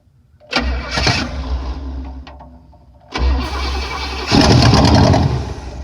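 An engine in a C10 pickup cranks and catches twice, roaring up loudly each time, dropping briefly between attempts, then running strong and rough toward the end.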